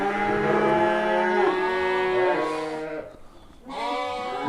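A Hissar sheep bleats loudly and close by at a livestock market in a long drawn-out call, then a short pause, then a second bleat begins.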